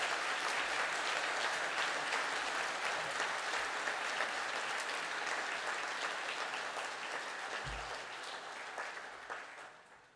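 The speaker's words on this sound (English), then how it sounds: "Can the class now please stand for a round of applause?" Sustained applause from a graduation ceremony audience honoring a graduating class, many hands clapping steadily in a large hall, slowly fading toward the end.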